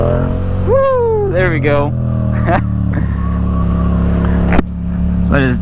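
A Yamaha FZ-07 motorcycle engine revs hard and climbs in pitch during a wheelie, dropping and rising again in several loud surges while a rider whoops and speaks over it.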